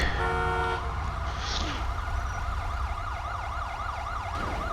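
An ambulance siren in GTA 5 wails close and loud with a rising and falling pattern, following a brief burst of a different siren tone at the start, and no one speaks.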